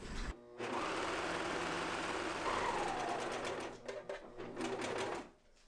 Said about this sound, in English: I'm gonna serge the seam allowance of the bodice and the skirt together